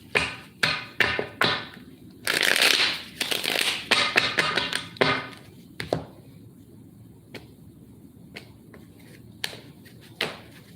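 Tarot cards being shuffled by hand, a run of quick riffling bursts and soft taps, close by, with a brief flurry in the middle and then scattered light clicks.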